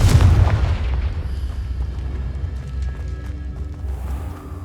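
A Confringo fire spell blasts in the video game Hogwarts Legacy: one loud, booming explosion at the start that rolls off into a long rumbling decay.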